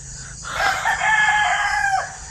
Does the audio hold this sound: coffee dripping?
no